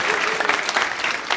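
An audience claps at a nursing school brunch event in Saint-Denis, with dense, steady applause from a crowd close by.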